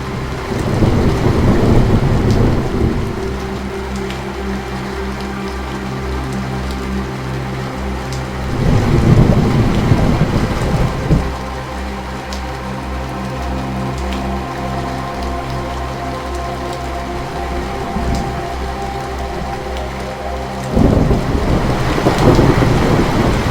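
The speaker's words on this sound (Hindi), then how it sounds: "बहुत जोरों से बिजली कड़क रही होती है।" Thunderstorm with heavy rain at night, steady downpour hissing throughout while loud rumbling thunder cracks swell up three times, near and powerful, with no voices.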